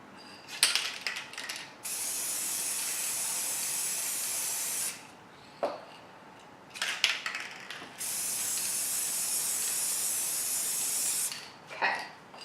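Spray paint hisses onto a canvas in long, loud, sustained bursts separated by short pauses, with brief rattling can shakes between sprays and no talk.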